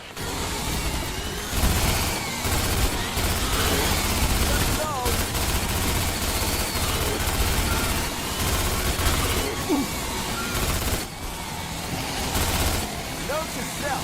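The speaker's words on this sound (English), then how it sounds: "Get on the gun tower and shoot down those hopper bugs." Mounted gun tower firing on swarming hopper bugs in a Starship Troopers video game: dense, continuous bursts of automatic gunfire with rumbling engine-like noise and game sound effects, loud and sustained.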